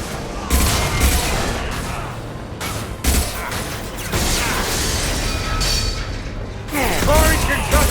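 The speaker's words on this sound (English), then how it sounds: "Firing concussive shot." Concussive shot ability firing in Mass Effect 2 Legendary Edition, heavy mechanical bursts and crashing impacts over combat noise, with several sharp hits spread through the passage.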